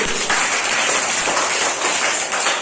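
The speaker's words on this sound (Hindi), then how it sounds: "आइए इन सभी बच्चों के लिए जोरदार ताली।" Applause for a group of young children at a primary school event, a steady dense wash of clapping from a crowd, fairly loud and continuous throughout with no talking over it.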